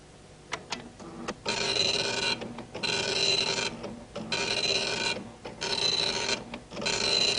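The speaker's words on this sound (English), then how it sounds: "And now press F2 to start printing Christmas Carol." An old computer printer prints a Christmas Carol document, giving repeated loud raspy mechanical bursts of print-head travel broken by short pauses and clicks, with no talking.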